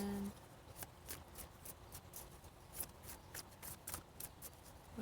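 Tarot cards being shuffled and drawn, a steady run of soft papery riffles and flicks with brief louder slaps, fairly close and without talk.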